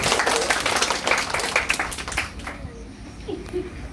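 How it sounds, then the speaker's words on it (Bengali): Children applaud together after a pressure science experiment in Bolpur, Santiniketan, giving a loud, dense burst of clapping that thins out halfway through, with a few faint young voices underneath. "জোরসে হাততালি সবার জন্য"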